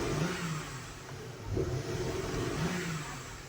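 An old Mercedes with a fault, barely holding idle, revs its engine in a steady, fairly loud drone that swells slightly around the middle and stays continuous without a break.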